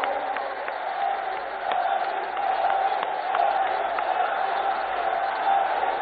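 A large crowd applauds at a public project inauguration attended by Prime Minister Narendra Modi in Rajasthan. The clapping is continuous and dense, with crowd murmur mixed in, and it sounds muffled and band-limited through the broadcast feed.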